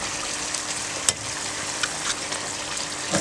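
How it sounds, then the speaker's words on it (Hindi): Mongra fritters crackle and sizzle steadily in hot oil on low heat, a dense continuous hiss with a few sharp pops and utensil taps, no voices. "अब इसी तरह से आपने सारे मोंगरे फ्राई कर लेने हैं।"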